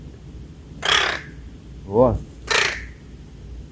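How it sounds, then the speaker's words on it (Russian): Crows cawing outdoors by Lake Seliger in August: two loud, harsh caws about a second and a half apart, with a short spoken word between them. "Вороны прилетели."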